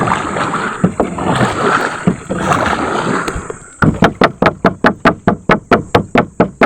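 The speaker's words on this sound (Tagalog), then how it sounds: "Kakalantugin natin itong bangka para yung mga isda mga kanay tumakburon." Rapid, regular knocks bang on a boat's hull to scare fish, a dozen sharp hits in steady rhythm, following a stretch of wind and water noise.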